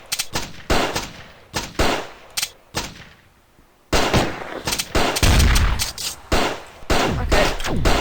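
Rocket launcher fire in the video game Raze 3: a rapid run of loud, sharp bursts and blasts in clusters, with a brief quiet gap before another dense volley.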